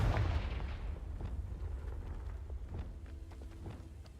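A spell explosion in Hogwarts Legacy lands as a loud booming blast at the start, then decays into a rumbling tail scattered with small crackles and thuds.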